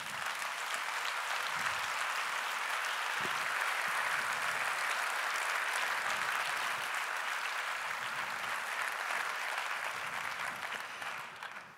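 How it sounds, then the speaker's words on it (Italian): Sustained applause from an audience at the Premio Terzani 2022 event, steady and dense for the whole stretch before fading slightly at the end, with no voices over it. "vi chiedo un, un applauso"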